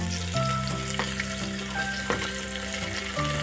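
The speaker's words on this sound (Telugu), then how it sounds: "వేసుకున్నాక వేయించుకుందాం" Sliced onions and green chilies with mustard seeds and dried red chilies fry in hot oil for chicken curry, giving a dense, continuous loud sizzle with a few stirring scrapes and a steady tonal hum in the background.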